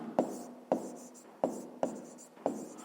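Pen strokes on paper while working a fifth-grade maths exercise, five quick scratchy marks at a steady rhythm, close and quiet.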